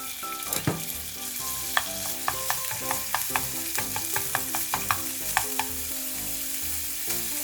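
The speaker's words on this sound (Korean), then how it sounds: "먼저 팬에 기름을 둘러 주시고요. 다진 마늘을 조금 넣습니다. 자, 그리고 갈린 쇠고기를 집어 넣어 주시고요." Ground beef sizzles and fries with minced garlic in oil in a pan, a steady crackling hiss broken by repeated scraping stirs of a utensil, close and clear with no voices.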